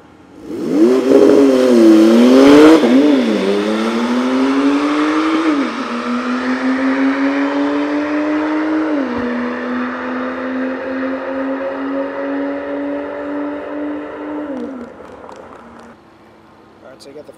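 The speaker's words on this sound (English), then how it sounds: "So now I got the 911 Turbo S up against the Tesla Model X P100D." Loud engines of a Porsche 911 Turbo S and a Tesla Model X P100D at a supercar track day as they race, a strong rising drone climbing through shifts and then holding steady before cutting off, with talk over it.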